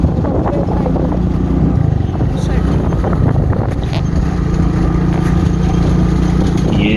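A motorbike rides at night through a cattle market, its engine humming steadily and loudly up close, with wind rumble and occasional background voices.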